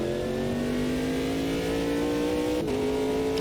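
Naturally aspirated LMP2 prototype race car engine in the Automobilista 2 sim, a steady aggressive drone rising in pitch as it revs, with a brief shift-like dip near the end.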